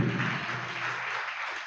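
Congregation at a church service in Perecharla, Guntur clapping hands together, a dense steady wash of applause filling the whole moment, close and loud, with no talking over it.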